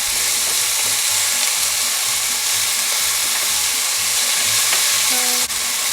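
Garlic and shrimp sizzling loudly in a pan on medium-low heat, a dense continuous crackling hiss close up with faint stirring scrapes underneath.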